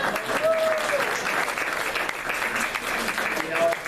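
An audience at a drive-in movie theatre claps in a dense, continuous round of applause, fairly loud and close, lasting the whole stretch without a break.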